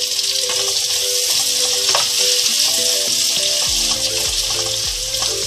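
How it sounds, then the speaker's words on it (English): Shrimps hit hot oil with golden garlic in a pan, loud steady frying sizzle with stirring clinks and scrapes throughout, no voices. "The garlic is almost golden brown. We add the shrimps."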